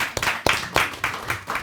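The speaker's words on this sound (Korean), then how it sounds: "박수 좀 치고." A church congregation claps in a handful of loose, separate bursts at a steady pace, close and moderately loud, trailing off within a couple of seconds.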